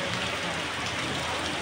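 Rain falls steadily at Gokarna near the temple: a continuous, loud, close wash of downpour with no pauses from start to finish.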